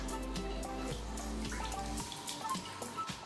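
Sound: water splashing while wetting face

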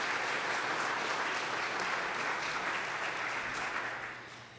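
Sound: audience applause

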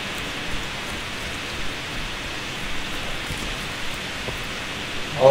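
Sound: computer fan noise picked up by the microphone

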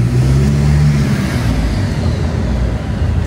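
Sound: Toyota Innova 1GD biturbo engine revving on dyno, ball-bearing turbo

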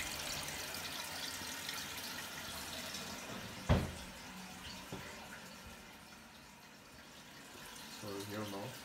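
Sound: toilet tank refilling with water during repair

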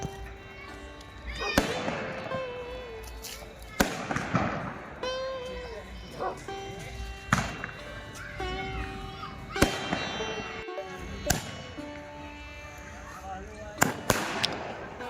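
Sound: fireworks and firecrackers bursting during Diwali celebration

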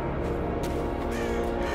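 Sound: crows cawing in a video game

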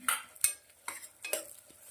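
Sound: onions sautéing in a pan

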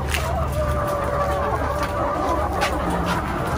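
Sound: RTL layer hens clucking in galvanized cages

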